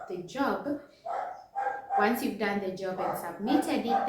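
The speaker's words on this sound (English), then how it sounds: "If you hear a dog barking, it's right outside my apartment" A neighbor's dog barks repeatedly just outside an apartment, several sharp barks and yips overlapping with someone talking nearby indoors.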